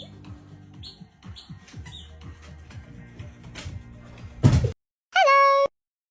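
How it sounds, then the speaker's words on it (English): A cat gives one short, clear meow near the end, following a stretch of soft background talk and a sharp thump, then silence. "meow."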